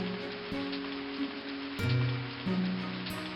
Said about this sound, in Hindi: अगले दिन भारी बारिश हो रही है।